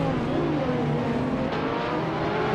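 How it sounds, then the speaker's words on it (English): 2008 Porsche 911 997 GT3RS race car in a racing game, engine droning steadily and loudly at high revs throughout, with no talk. "Necrophantasm is driving a 2008 Porsche 911"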